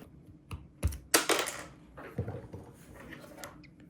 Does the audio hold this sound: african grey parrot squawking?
no